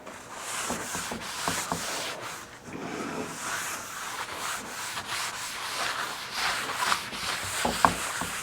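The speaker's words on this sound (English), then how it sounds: "We're gonna go ahead and just rub her down with a little bit of cutting board oil." Cutting board oil being rubbed by hand into a wooden board, a steady close swishing friction that continues throughout with small knocks and clicks near the end; no talking.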